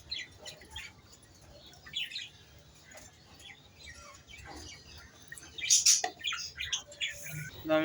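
Pigeons chirp and flutter close by as drinking water is set out for them, with scattered soft calls and a brief burst of wing flaps and squawks near the end.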